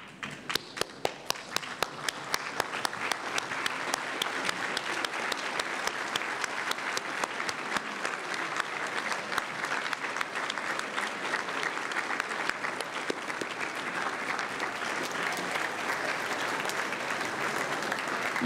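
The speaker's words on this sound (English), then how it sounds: "I wonder, as graduates, if you also would stand up and applaud the people that got you here." High school graduates at a commencement ceremony give sustained applause in a large room. A few distinct claps open it, then the clapping swells into a dense, steady roar that lasts throughout.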